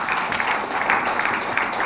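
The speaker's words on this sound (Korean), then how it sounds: "여러분 다시 한번 큰 박수 부탁드립니다" Applause from a forum audience after a call to honor the host organization's chair, a steady, fairly loud wash of clapping that fills the whole stretch with no break.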